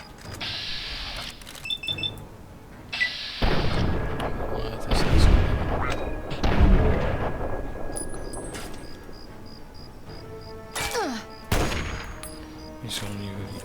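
Gunfire from an anti-materiel rifle in the video game Fallout 3, heavy booming shots in a few scattered bursts mixed with other game effects and occasional electronic tones.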